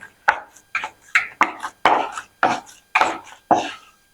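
Soaked flattened rice (poha) pressed and mashed by hand in a bowl, giving eight evenly spaced, fairly loud squelching thuds, close and alone with no talk.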